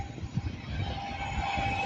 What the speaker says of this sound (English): The next train to give it the beans through Bletchley will be a Class 390 Pendolino bound for